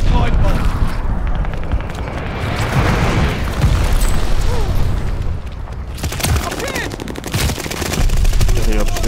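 Battlefield combat in the video game Call of Duty Vanguard: booming glide bomb explosions and rapid bursts of gunfire, loud and dense, with rumbling blasts and rattling shots continuing throughout.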